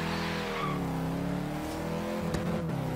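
Toyota Hilux off-road truck in Forza Horizon 3 rolls along a dirt track, its engine droning steadily with harmonic whine, then revving and shifting with a brief tire scrub near the end, loud and continuous without speech.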